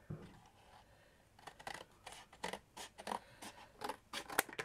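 Scissors snip through craft material while trimming parts for a miniature round library tower diorama, a series of close, crisp cuts in irregular bursts with no talking.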